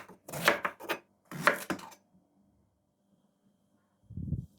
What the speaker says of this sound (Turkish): Patlıcanları yıkayalım ve 3 parmak genişliğinde keselim.